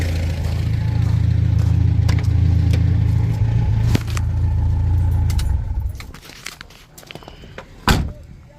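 A 1972 Toyota Corolla TE28 wagon engine idles with a steady low drone up close, then shuts off around the six-second mark, leaving quiet handling clunks and a brief knock near the end.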